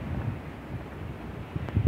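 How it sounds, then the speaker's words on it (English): Wind rumbles and thumps against the microphone in a low, steady blustering roar, with a few harder gusts near the end. "holy crap, it is very windy out."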